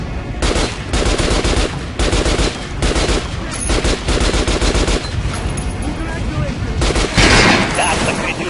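Gunfire at a shooting range in the video game Metro: Last Light, with loud, repeated bursts of rapid shots separated by short pauses, each burst close and sharp, ending in a heavier blast.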